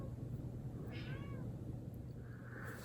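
A domestic cat meows once at moderate distance, a rising-falling cry near the middle, followed later by a fainter, shorter vocal sound over a quiet indoor background hum.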